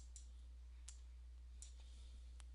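Computer mouse clicking at a desk, four faint, sharp, evenly spaced clicks against a steady low hum, with no voices.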